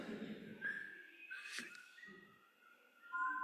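Several people whistle in a church gathering, producing faint, scattered sustained tones of varying pitch with short gaps between them.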